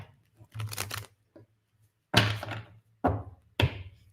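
Tarot cards shuffled by hand in four quick bursts of papery riffling and tapping, close and distinct, with a low steady hum underneath and no talking.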